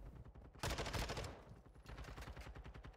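Rapid gunfire in a Call of Duty match, a wallbang kill shot through a wall: a loud burst of repeated shots, then a second quieter run of fast shots that continues to the end.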